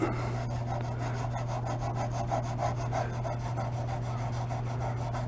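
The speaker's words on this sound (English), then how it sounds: "So I'm going to take some 3000 grit 3M wet or dry sandpaper and just go over that." Fine 3000-grit 3M wet or dry sandpaper rubs across a scratched plastic taillight, a steady close rasping that continues without pause under a constant low hum.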